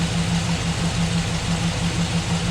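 A newly swapped V8 engine in a Chevrolet Silverado idles steadily, a smooth low rumble with an even rhythmic pulse, close and continuous with no talking.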